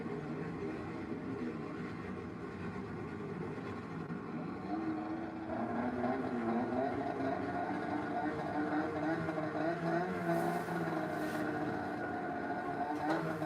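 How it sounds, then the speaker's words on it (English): Snowmobile engines idling and revving at an X Games 2026 freestyle competition, a steady mid-distance mechanical drone that swells louder partway through, with faint crowd and event ambience behind it. "They just started up their engines."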